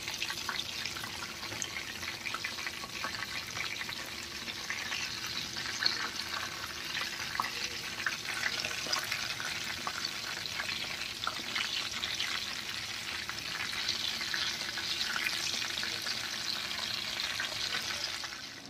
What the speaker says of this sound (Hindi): इसको लो टू मीडियम फ्लेम पे आगे पीछे से फ्राई करके अच्छे से इसको निकाल ली हूँ